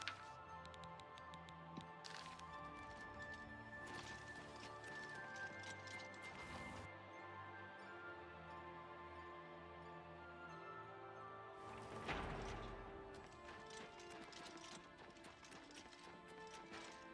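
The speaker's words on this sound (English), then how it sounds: "Alright, Prior Maybell's horse." Horse hooves clip-clop in Oblivion Remastered, a soft, steady rhythmic trot running through the whole stretch over quiet game ambience, with a few louder bursts of movement.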